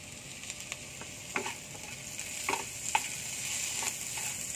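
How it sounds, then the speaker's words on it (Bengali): Capsicum frying in a pan alongside carrots and beans, a steady hiss with scattered clicks of a spatula stirring through the vegetables, fairly faint and with no talking. "ক্যাপসিকামটাও ভালো করে ভেজে নিতে হবে।"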